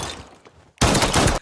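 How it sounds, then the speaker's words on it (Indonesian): A loud burst of rapid gunfire in a film erupts suddenly after a quieter stretch, sustained for about half a second before cutting off. "sambil melepaskan tembakan"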